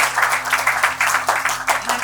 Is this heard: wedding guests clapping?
yes